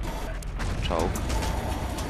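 A wrench repairs a vehicle in the video game Battlefield 1942, giving a quick mechanical ratcheting clatter over a loud background of game noise.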